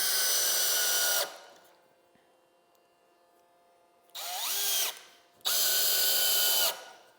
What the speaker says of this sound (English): I'm gonna come through and put some GRK trim screws in